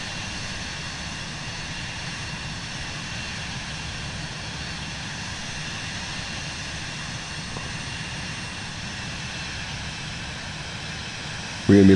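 Steady, close airplane engine drone on landing approach in Microsoft Flight Simulator 2024 on PS5, holding a constant broadband hum throughout with a brief louder bump at the very end.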